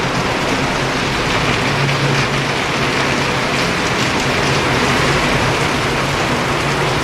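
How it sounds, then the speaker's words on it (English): Steady rain shower falling in sunshine in Laos, a dense continuous hiss of drops on surfaces, loud and close, with no voices over it. "Who else enjoys coming out and watching the rain?"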